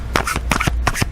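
Tarot cards being shuffled by hand, several quick riffling bursts in a row, close and crisp.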